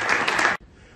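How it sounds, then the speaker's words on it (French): An audience in a hall applauding the Groupama-FDJ cycling team riders, a dense burst of clapping that cuts off abruptly after half a second. "vous pouvez les applaudir une première fois"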